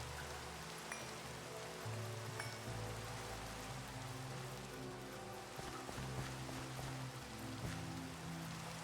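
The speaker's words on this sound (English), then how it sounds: "this rain is a bit overkill with how reflective it is, but I like it" Steady rain falls in a Minecraft modpack game, a dense, even hiss of drops that stays constant and fairly loud throughout, with low droning game tones underneath and no talking.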